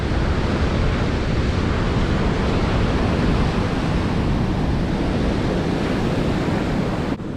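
Wind and surf at a coastal fishing spot in stormy, rainy weather: dense, steady roaring noise of waves and wind buffeting the microphone throughout.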